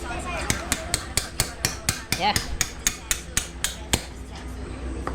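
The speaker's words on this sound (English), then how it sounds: "Gotta jam that in. Where's the hammer?" Hammer striking a part being jammed into place on a four-speed mini chopper motorbike, about fifteen sharp metallic blows in a steady rhythm, close up, with a brief spoken word.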